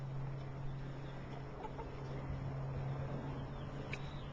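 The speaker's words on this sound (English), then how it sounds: "The Central Street chickens making their way to wherever they're supposed to not be." Chickens roaming a backyard on Central Street cluck softly and intermittently against a steady hum of outdoor background noise, with no one speaking.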